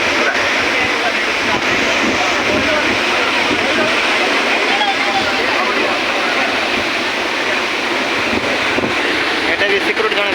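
Heavy, continuous roar of falling water at a waterfall in Kerala, loud and steady throughout with wind buffeting the microphone.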